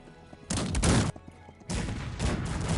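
Cannon and musket volleys boom in the Cossacks 3 multiplayer battle game, two long, loud bursts of overlapping gunfire separated by a brief lull.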